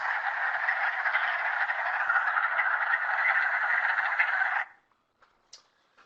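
A dense chorus of wood frogs gives a continuous hoarse, duck-like clacking for several seconds, then stops abruptly, leaving near silence with a few faint isolated calls.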